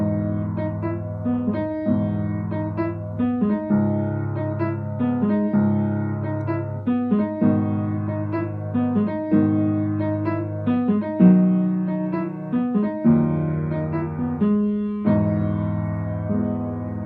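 A synth-pop song plays as a steady keyboard-driven groove. Repeated chord stabs and a bouncing bass line keep an even pulse, with no voices over it.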